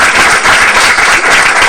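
A ghazal concert audience applauds loudly and continuously to welcome a singer, a dense roar of many hands clapping up close.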